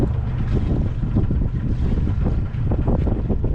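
A sailboat's engine throttled back to idle during an anchor test, a steady low rumble blended with heavy wind buffeting the microphone and water around the hull, loud and continuous.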